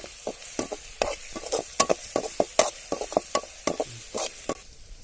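Onions and curry leaves frying in oil with cumin for a pepper chicken dish, with sharp spatula stirs and scrapes against the pan over a steady sizzle, heard close and alone.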